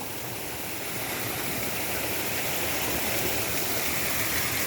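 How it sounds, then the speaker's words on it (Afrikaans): Flood water pours steadily across a road after heavy rain, a loud, continuous rushing and splashing roar heard close up with no voices. "Dis die water van ons kant van die pad af."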